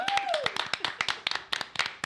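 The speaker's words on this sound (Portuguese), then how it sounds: "Então, só dar palmas aqui, foi maravilhoso." A small group on a Portuguese-language Christian podcast claps hands in a quick, uneven run of distinct close claps, with voices speaking over them.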